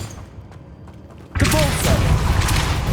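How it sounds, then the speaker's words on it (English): A spinning mechanism raises a platform in the Hogwarts Legacy video game. Near-quiet gives way halfway through to a sudden loud, rumbling, grinding churn that continues steadily to the end. "Making this spin ought to raise that platform."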